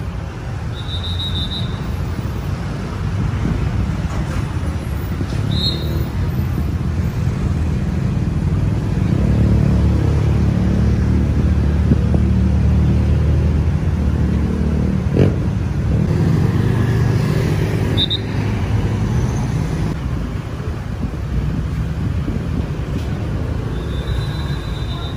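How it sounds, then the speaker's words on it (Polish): A Honda motorbike riding through traffic in Phuket, Thailand, a steady loud engine drone and road rumble with passing vehicles and faint horn-like tones, continuous throughout, no talking. "Jedziemy naszą Hondą do sklepu poszukać kasków"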